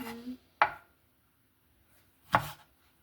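Two separate knife chops through a green cucumber on a cutting board for a chicken and vegetable salad, sharp close thuds about two seconds apart with quiet in between.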